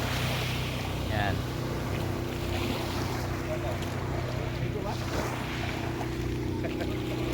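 A boat's engine drones steadily while riding on the sea near Balicasag Island, Panglao, Bohol, with wind buffeting the microphone and water rushing alongside, and people talking at times.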